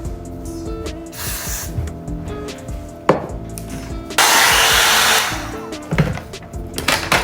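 A steady hiss of spray onto a wig bursts out for about a second, surrounded by small handling clicks and taps nearby.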